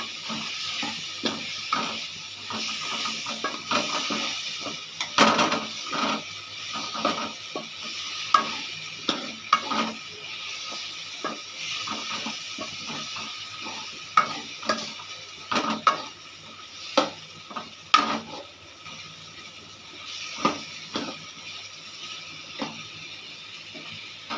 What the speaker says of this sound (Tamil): சிக்கன் நல்லா வதக்கிக்கலாம் ஃப்ரெண்ட்ஸ் வதங்கட்டும்